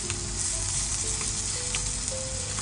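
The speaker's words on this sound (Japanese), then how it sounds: "やっぱ焼き目をつけた方がうまいから、しっかり焼き目をつけて" Vacuum-packed corn sears in a hot pan with a dense, continuous sizzle and crackle, close and steady for the whole stretch.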